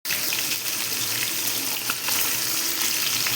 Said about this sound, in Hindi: हल्का सा फ्राई करेंगे पनीर को घी में